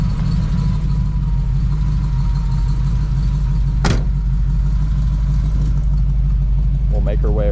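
A 1969 Chevrolet Camaro with a 350 V8 and a mild cam idles steadily and loudly close by, its deep, even rumble continuous throughout, with a brief sharp click near the middle.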